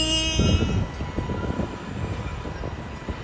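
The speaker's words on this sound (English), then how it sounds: "there goes our train" A Boston light rail train pulls out of a station, a steady rumble with rhythmic clacking of wheels over rail joints and a faint high squeal, fading slightly as it moves off.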